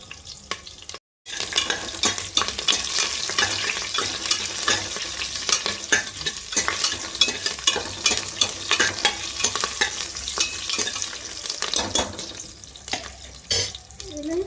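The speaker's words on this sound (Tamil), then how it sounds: "வெங்காயம், பெரிய வெங்காயம் பொடிசாக வெட்டி வச்சதை போட்டு நல்லா வதக்கிடுங்க." Chopped onions sautéing and being stirred in a pan while making biryani, a steady broadband sizzle with scraping stir strokes throughout, briefly cut off near the start, with faint running tap water at times.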